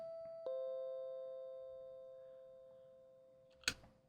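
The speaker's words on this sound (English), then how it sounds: "Someone's ringing my doorbell." A doorbell in a visual novel video game chimes twice, a clear sustained ding that slowly fades, followed near the end by a sharper, brighter second strike against a quiet background.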